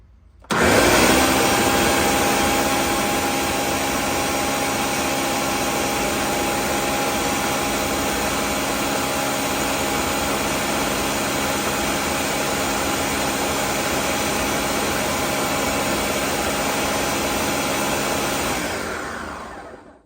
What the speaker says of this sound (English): I'll blend it one more time, and then we're going to remove it from the blender one more time